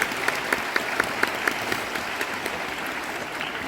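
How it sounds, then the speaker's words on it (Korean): Film festival audience applauds at the opening eve of the 29th Bucheon International Fantastic Film Festival, a steady clapping crowd with sharp individual claps standing out, moderately loud and without talk. "박수 주시죠."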